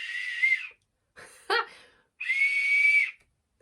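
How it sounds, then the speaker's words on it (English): A small metal Harry Potter–themed whistle is blown close up in two loud, sustained shrill blasts, with a brief breathy, sputtering toot between them and silence in the gaps. "Yes, it's a whistle."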